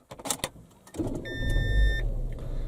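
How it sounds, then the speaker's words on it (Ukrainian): Renault Scénic 2 started with the start-stop button: a few clicks, then the starter whirs briefly and the engine catches, settling into a close, steady idle. "Все, автомобіль завівся."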